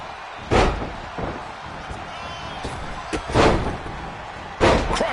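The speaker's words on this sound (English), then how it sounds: "Crushing impact on the splash." Heavy wrestling-ring impacts in the WWE 2K25 video game: three loud, booming slams and several lighter thuds spaced irregularly over a faint arena background.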